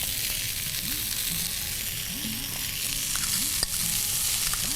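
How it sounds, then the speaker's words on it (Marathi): Tomatoes sauté in a pan over a low flame, giving a steady, close sizzle with soft stirring scrapes and occasional sharp clicks from the spoon. "थोडंसं आपण परतूया बारीक गॅसवरती मंद वरती आणि त्याच्यामध्ये आपल्याला आता टोमॅटो मिक्स करायचा आहे"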